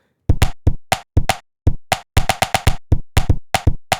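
A rhythmic shaker-like pattern made from an egg sample plays with sharp, bright rattling hits in a steady groove, close and loud with short silences between beats.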